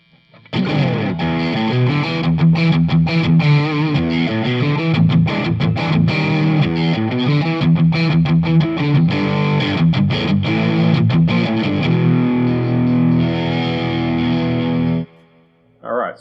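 ESP LTD ST-213 electric guitar on the bridge pickup with all controls on full, played through overdrive: a loud, continuous distorted lick of quick picked notes that stops abruptly near the end.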